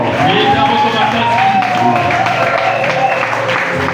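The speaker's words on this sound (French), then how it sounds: "Acclamez très fort." A church congregation applauds and cheers loudly, a dense sustained wash of clapping and voices with a speaker talking over it.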